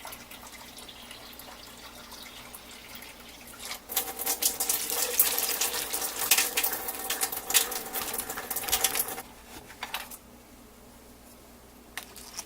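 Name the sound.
filling a pressure cooker pot with water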